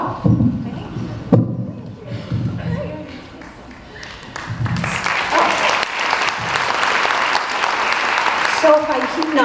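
Applause from a school convocation audience for Falmouth Public Schools, starting with scattered claps and thumps, then swelling into steady, full clapping from a large crowd over the second half.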